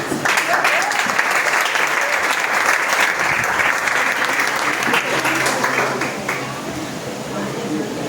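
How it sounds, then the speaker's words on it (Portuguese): Loud, dense clapping from a congregation fills an Assembleia de Deus church during a festive service. It holds steady for several seconds before tapering slightly, with voices faintly audible beneath it. "A melhor salva de palmas que você trouxe para Jesus."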